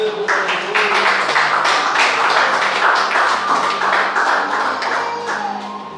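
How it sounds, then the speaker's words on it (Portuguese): A church congregation applauds in praise during a service, a dense, continuous wash of many hands clapping up close that holds steady for several seconds before easing slightly. "Pode sentar aplaudindo ao Senhor"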